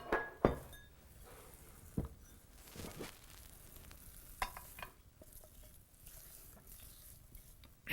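Pecans are folded into grain-free red velvet brownie dough with a utensil, giving soft quiet scrapes and a few sharp knocks against the bowl, with no one talking.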